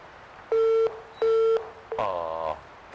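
Telephone line signal after a dropped call: two identical steady beeps of about a third and half a second each, then a brighter warbling tone, loud and clear with no talking.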